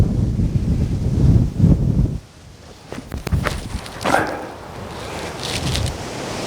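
Headwind buffets the microphone on a hilly disc golf course, a loud rumbling gust up front that drops away, then lighter gusts with a few scuffing steps and knocks.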